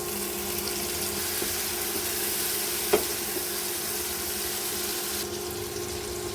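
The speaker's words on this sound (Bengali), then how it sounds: "আদা কুচি, হালকা একটু ভেজে নিব।" Chopped ginger fries lightly in a pan for a Chicken Manchurian, giving a steady close sizzle and hiss with one brief clink midway.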